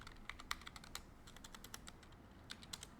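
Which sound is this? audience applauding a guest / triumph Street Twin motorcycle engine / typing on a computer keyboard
typing on a computer keyboard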